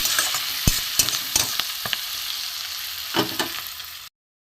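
Cauliflower leaf paste frying in a pan, a continuous close sizzle with a few spatula scrapes and taps, ending in sudden silence.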